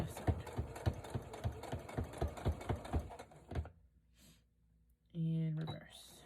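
A sewing machine runs a rapid, regular stitching rhythm back over a seam on stretch fabric for a twisted headband, then stops, followed by a short whirr and a voice talking.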